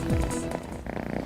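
A cat purrs softly and briefly, a low rumbling close by.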